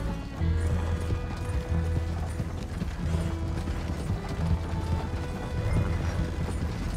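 Horse hooves clatter in a fast, continuous rhythm in Red Dead Redemption 2, with a double-mounted horse galloping under mechanical game noise and a low droning hum, with no speech over it.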